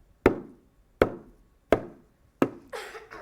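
A hand drum is struck four times at an even, unhurried pace, each sharp hit decaying quickly, the last followed by a brief rattle or scrape; close and alone, no voices.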